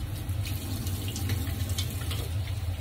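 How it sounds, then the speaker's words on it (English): Water runs steadily from a tap while hands are washed at a sink, a continuous close hiss with slight splashing variations and no talking. "Let me wash my hands again."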